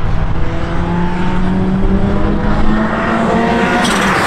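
A 540 bhp Ford Sierra Sapphire Cosworth pulls away, its engine droning steadily with rising harmonic tones as it gathers speed, loud and close throughout with no talking.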